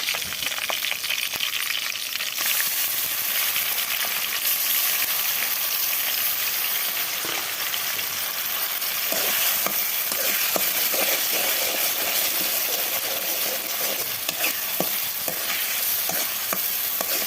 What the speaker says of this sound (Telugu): ఆ పేస్ట్ని దీనిలో యాడ్ చేసి బాగా ఫ్రై చేయాలి